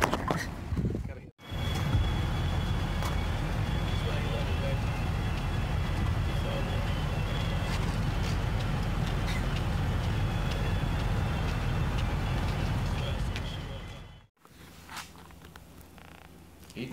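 Inside a truck cab while driving on the road, a steady low rumble and road drone fills the cab at moderate level, broken by two brief dropouts, with no clear talking.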